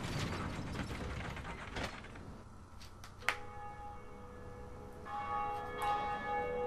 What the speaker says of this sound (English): we've rung the first bell